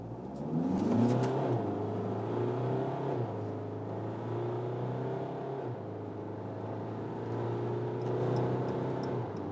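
A 2016 Jeep Cherokee Limited with a 2.2 liter diesel engine accelerating hard from inside the cabin, a steady engine drone rising in pitch through the gears over about ten seconds, with no talking.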